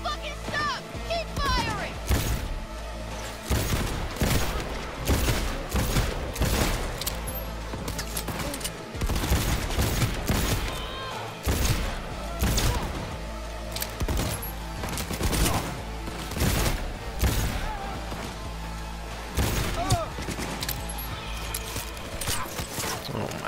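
Gunfire from the video game Cyberpunk 2077 crackles in rapid, repeated bursts and single shots across a busy combat mix, dense and punchy with shifting intensity throughout.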